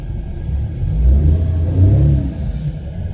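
A 2013 Suzuki Mehran VX car engine runs close and loud with a low, steady rumble that swells and eases in gentle revs, with no talking.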